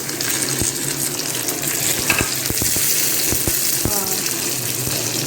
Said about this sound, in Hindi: अब इसको हम भुनने तक पकाएंगे